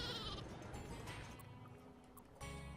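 Sheep bleat in the video game Flockers, a clear bleating call over a busy, continuous game soundscape, with a fresh swell of game sound near the end.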